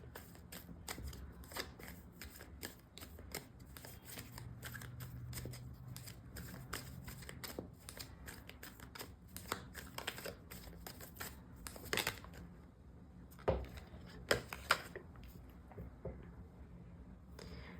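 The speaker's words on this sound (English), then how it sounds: "I'll quickly arrange the cards first" Tarot cards from an original deck are shuffled and arranged by hand, with soft repeated riffles, slides and flicks, close and quiet, and a few sharper taps near the end.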